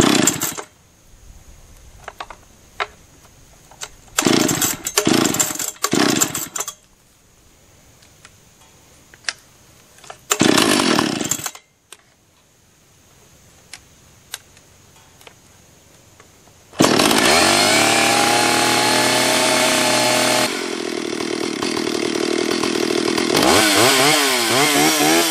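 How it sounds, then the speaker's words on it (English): Stihl chainsaw starting and warming up: several short pull-start bursts and sputters with quiet gaps, then the engine catches and runs at a loud steady idle and rev for the remaining seconds, close by with no talking. "number one rule in chainsaws, right? Repeat after me. Let it warm up before you start cutting."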